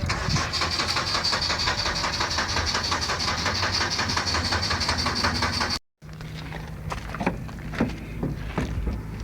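A Honda CR-V engine runs at a steady idle, a constant mid-pitched hum that cuts off briefly and then resumes with rougher, uneven knocks, heard close with no voices.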